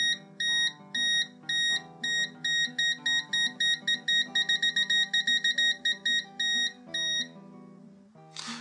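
A Mustool MT-110 multimeter in non-contact voltage mode beeps in a fast run of short, shrill electronic tones, spacing tightening into rapid pulses then slowing, ending with a brief clatter.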